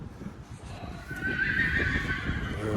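Friesian horses on a windy farm give a clear, loud whinny that rises over a wind-blown background, with some hoof shuffling.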